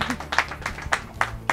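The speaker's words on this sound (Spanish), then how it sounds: "un aplauso" A small audience claps for a finalist at a tortilla competition final, a handful of distinct, fairly close hand claps in an uneven rhythm over a quiet room hum.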